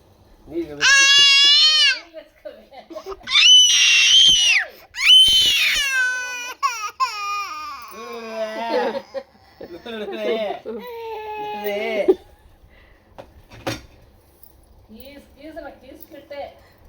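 An 11-month-old baby screams and cries in loud, high wailing bursts while tasting raw mango, with breaks between the cries and quieter whimpering and adult talk toward the end.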